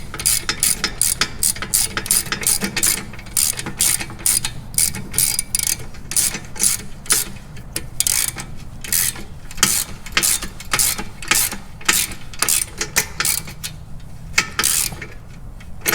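Ratchet tightening a nut onto a bolt on shop equipment, a long run of rapid, evenly spaced clicking pawl strokes close up, with brief pauses between bursts and no talking.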